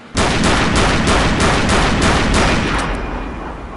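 An M1 Garand rifle fires in the Gun Club VR game as a dense, loud burst of overlapping gunshots that rolls on without a break and then fades slowly, with no speech.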